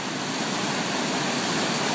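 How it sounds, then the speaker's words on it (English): The Ossipee River rushes through a dam in a steady, loud roar of churning water, dense and unbroken with no talk. "So, Ossipee River, plenty of power in it."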